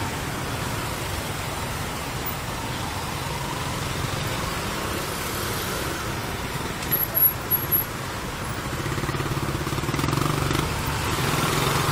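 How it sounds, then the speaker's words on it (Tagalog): Heavy road traffic on a congested street, a steady broad rumble of engines and tyre noise with faint motorbike tones, continuous and fairly loud throughout. "Sobrang traffic baby."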